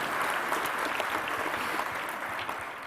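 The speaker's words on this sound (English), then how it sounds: "we can go ahead and applaud about that." Delegates at a diocesan convention applaud during the bishop's address, a dense, even patter of clapping from a large room that holds steady and eases slightly near the end.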